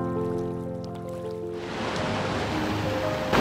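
A medium-sized forest stream flows at a river crossing on a trail near Alibag, a rushing watery wash that swells from soft to louder.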